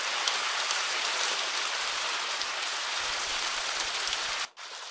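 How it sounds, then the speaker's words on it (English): Steady, dense rain pattering on a surface, loud and continuous, with a brief dip near the end before resuming. "It's raining!"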